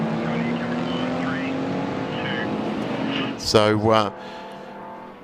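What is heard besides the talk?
Perkins Engineering Red VL race car driving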